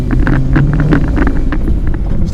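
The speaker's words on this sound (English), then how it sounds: "I've never heard a car make so many sounds before." Lexus SC400 drift project car making strange noises, a loud low engine rumble mixed with rapid rattling and knocking pulses, heard close from inside the car.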